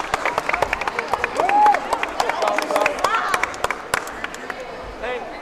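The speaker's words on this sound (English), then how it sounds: "Clap it up for us." Crowd at a combat challenge event clapping and applauding, dense rapid hand claps with some cheering and whistles, while voices talk over it.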